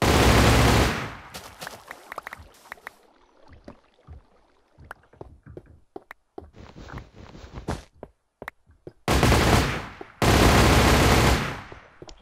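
Minigun fire from a Minecraft SDK gun mod in a multiplayer video game, loud sustained bursts at the start and again near the end, with scattered clicks and quieter shots in between.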